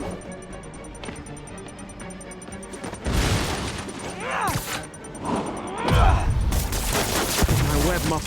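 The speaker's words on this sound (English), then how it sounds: "Bombs could go off any second." Muffled bomb blasts in the Spider-Man PS4 video game, a series of deep booms and thuds with heavier bursts around the middle and end, sitting over a steady game soundscape.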